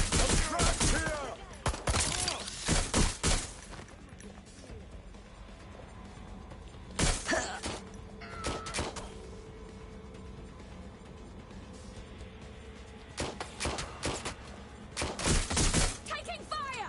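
Bursts of gunfire in Watch Dogs Legion, several loud rapid volleys spread across the stretch with quieter gaps of low ambience between them.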